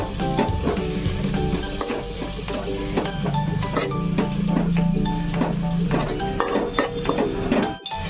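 Khichuri ingredients stir-fried in a pan over a medium gas flame, with a loud steady sizzle and repeated scraping and clinking of a spatula against the pan throughout.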